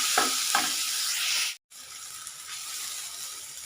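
Ginger garlic paste and curry leaves sauté in a pan for a chicken curry with a bright, steady hissing sizzle and stirring scrapes, briefly cutting out before the frying resumes, with no voices.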